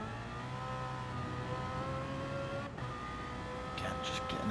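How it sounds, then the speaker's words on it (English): A race car engine in a racing video game, at Red Bull Ring, whines and strains at steady high revs, struggling to pick up speed, with a short burst of tire noise near the end. "You can hear the car struggling to actually get up to speed."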